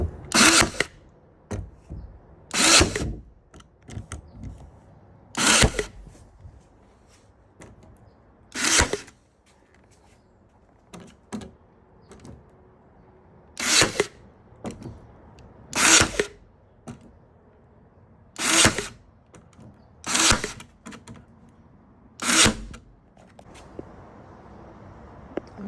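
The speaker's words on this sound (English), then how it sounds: "I have my very most favorite tool here, my staple gun" A staple gun fires repeatedly through cardboard lining a worm bin, sharp loud snaps at irregular intervals of a few seconds, each standing out clearly against quiet surroundings.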